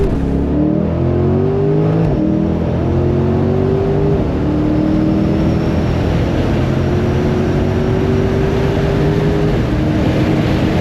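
A Chevrolet Corvette C8 accelerates hard, its engine note climbing in a series of rising tones through several gear changes, loud and steady from start to finish with no talking.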